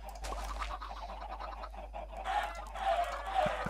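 A chicken in Minecraft, on an automatic chicken farm, clucks in short, soft repeated bursts, fairly near and alone without talk.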